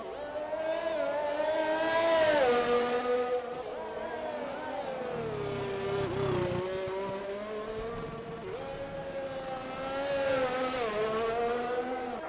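Race cars lap the Singapore Grand Prix street circuit in a racing video game, engines whining and rising and falling in pitch through gear changes, a continuous close, fairly loud engine tone with no one talking.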